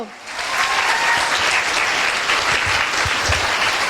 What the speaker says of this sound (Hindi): एक जोरदार ताली होनी चाहिए दोस्तों